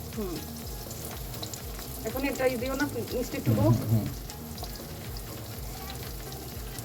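Beaten egg sizzles and fries steadily in a hot pan while vegetable noodles are cooked, with stirring sounds swelling midway and people talking over it.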